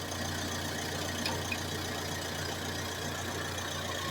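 A car engine idles steadily with a low, even rumble from the exhaust, constant throughout with no talking.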